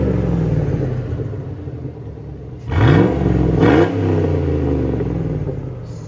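A custom-wrapped Hummer H2 with a 6.2L V8 and straight-pipe exhaust idles with a deep, steady rumble, then is revved twice in quick succession, loud and close, before settling back to idle.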